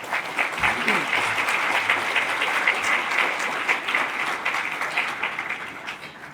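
Audience applause welcomes a speaker at a South Australian merit awards ceremony: steady, dense clapping from a sizeable crowd that holds at an even level throughout and tapers slightly at the end.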